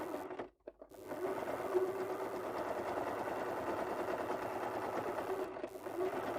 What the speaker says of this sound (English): I'm worried if I talk while I'm sewing, you're not going to hear me.